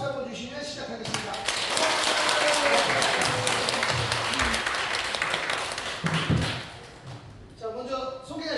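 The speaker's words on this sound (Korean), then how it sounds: "저희 힘찬 박수 한번 주시면 시작하겠습니다." A talk-concert audience gives a burst of hearty applause, a broad clapping roar that swells and holds for several seconds before fading, with a voice speaking just before and after it.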